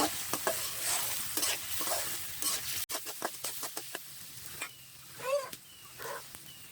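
Potatoes with turmeric fry in a pan on a clay stove, heard as a quiet sizzle under repeated scraping and stirring strokes of a spatula, close by.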